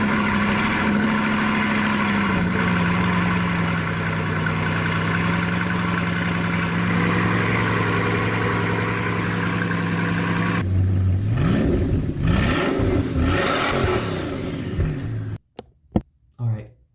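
A Bugatti Chiron with a W16 engine holds a steady, loud idle for about ten seconds, then revs up in rising, surging pulls before cutting off abruptly, followed by a few brief trailing bursts.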